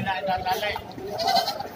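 Goat bleats from a livestock market selling various goat breeds, wavering calls rising over a busy background of overlapping human chatter nearby.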